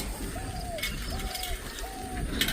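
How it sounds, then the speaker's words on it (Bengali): A yellow bird calls three times in a rural morning setting, each a short slurred whistling note repeated at regular intervals over faint background noise. "এই যে হলুদিয়া পাখি"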